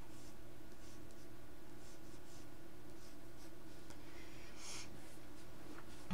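A pencil sketches a banana on paper in short scratchy strokes, close and quiet over a steady background hum, with no talking.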